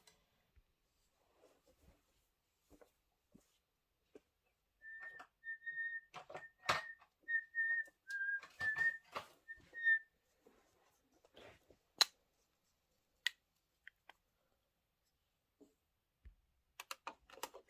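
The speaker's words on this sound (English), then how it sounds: "was I whistling for you?" A person whistles a short, thin melody of sustained notes between scattered clicks and taps in a quiet room, fairly faint and close.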